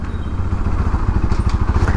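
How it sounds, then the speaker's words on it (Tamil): A Bajaj Pulsar NS200 BS4 motorcycle engine, freshly serviced and running low on engine oil, thrums nearby with a steady, rapid, pulsing idle-like beat. No one speaks over it. "இன்ஜின் ஆயில் கம்மியாக இருக்கவே இன்ஜின் சவுண்டே லைட்டாக ஒரு மாதிரி இது"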